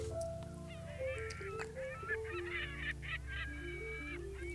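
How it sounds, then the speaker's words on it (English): On a farm where a tractor works the soil, seagulls call in a steady chorus of honking, squawking cries over low, constant machinery rumble, heard at moderate distance. "Look at the birds."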